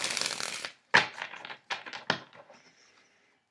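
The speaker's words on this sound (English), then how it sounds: "the cardstock is still, it's perfect for shuffling like this." A Tarot of Trees deck is shuffled by hand, its cards slightly larger than standard tarot size. Several crisp riffling bursts of card stock rasp close up, separated by short silent gaps and fading into lighter taps.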